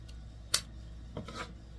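Scissors cut satin ribbon at an angle with two quick, close snips about half a second apart. The cuts are crisp and sit over a quiet background.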